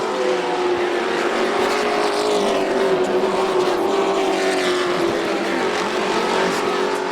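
Race trucks roar around the Volusia Speedway dirt track, a loud, sustained engine howl with pitch swells as the pack works through the turns, continuous for the full stretch.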